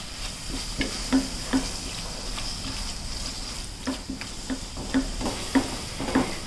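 Spices and tomatoes stirred in a hot sizzling pan for palak besan shaak, a steady sizzle under repeated light clicks and taps of a spoon against the pan, close by with no talking.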